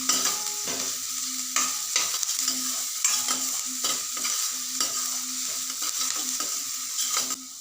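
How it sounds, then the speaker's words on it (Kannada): Onions frying in a pan, sizzling steadily while a spoon or spatula stirs and scrapes in a repeated rhythm, close up with no voices. "ಆನಿಯನ್ ಹಾಕಿದ್ಮೇಲೆ ಅದನ್ನು ಸಹ ಚೆನ್ನಾಗಿ ಫ್ರೈ ಮಾಡ್ಕೊತಾ ಇದ್ದೀನಿ."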